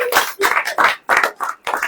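Church congregation clapping in short, rhythmic bursts of hand claps, about six quick groups in under two seconds, loud and close.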